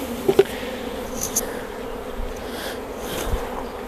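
Honey bees hum and buzz around a hive during queen rearing, a low, continuous drone with a few individual bees flying close by in brief louder passes, no voices.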